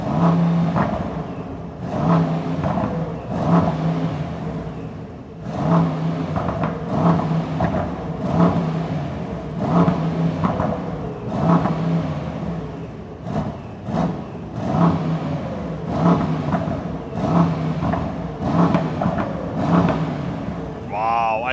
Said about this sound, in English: I really don't mind having a hybrid as long as we are getting this beautiful V8 sound